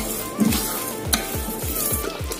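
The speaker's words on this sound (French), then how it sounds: "je fais torréfier les épices avant de les écraser" Whole spices dry-roasting in a pan for a Cameroonian smoked goat kondre, giving a steady close sizzle with a rhythmic series of scraping stirs and light clinks against the metal.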